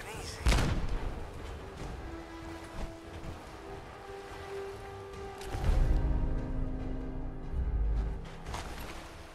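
A grenade exploding in Fallout 40000, a few heavy booming blasts with rumbling low-end decay, loud and close, mixed with other game noise and someone talking.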